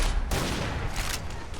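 M20A1 'Whalegun' 20mm anti-tank rifle in Fallout 4 fires a loud, broadband blast, with a sharp second report partway through and a rough sustained rumble carrying throughout.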